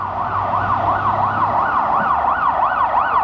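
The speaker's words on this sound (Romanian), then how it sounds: "Trece ambulanța, dar nu pentru noi, se duce mai departe." An ambulance siren wails in a steady, fast up-and-down sweep, loud and close as it passes along a road with traffic rumbling underneath.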